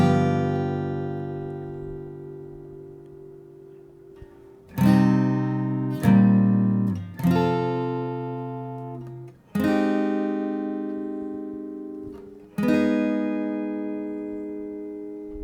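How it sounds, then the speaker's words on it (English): Acoustic-style guitar strums the pre-chorus chords of a song, a few sustained ringing chords struck every one to three seconds and left to decay, played alone and close. "Let me go ahead and play through that whole pre-chorus section for you."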